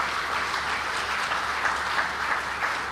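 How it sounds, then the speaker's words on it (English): Sustained applause from an audience at an investment conference in Kilifi, a dense, steady wash of clapping at moderate distance with no talk over it. "Another round of applause for Governor."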